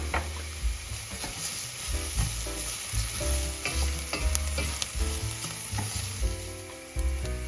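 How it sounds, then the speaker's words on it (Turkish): Thin vermicelli noodles and carrot sautéing in a pan for soup, a steady close sizzle with repeated scraping stirs and clinks running throughout, no voices. "Biraz da şehriye ile birlikte kavuruyorum."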